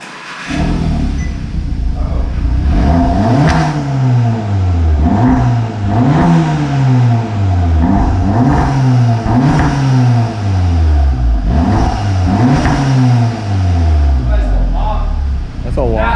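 A Volkswagen Golf R with a Milltek exhaust revs repeatedly in loud, close rising and falling sweeps, one after another, while people talk over it.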